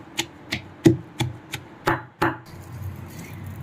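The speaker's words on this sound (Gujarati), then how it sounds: "હવે આપણે આ બધું એકદમ સરસ ખાંડી લેશું, એકદમ ઝીણું।" Green chili and mint pounded for chutney, about eight sharp, evenly spaced thuds close by, then a few softer scraping strikes as the mixture is crushed coarsely.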